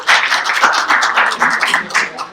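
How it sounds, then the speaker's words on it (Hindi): Audience at a club lecture event in Pune claps steadily, a dense run of hand claps close and loud with no talk over it. "आपके लिए भी तालियां।"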